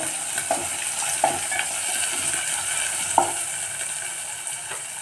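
Spices fry and sizzle in a pan for a masala in a country-style egg and chicken curry, a steady hiss broken by a few scraping stirs of a spoon, close and clear with no talk.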